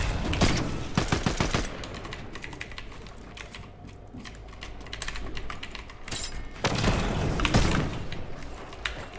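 Rapid bursts of gunfire from Fortnite, dense crackling volleys in two clusters separated by a quieter stretch, close and loud, with keyboard clatter throughout.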